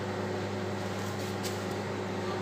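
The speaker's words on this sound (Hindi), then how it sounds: "इसको बस 3 मिनट तक जो है वो मैंने लगाया माइक्रोवेव में।" A microwave oven runs steadily, heating herbal tea meant for pigeons, giving a constant low electrical hum with a faint fan whir throughout, close and unbroken, with no talking.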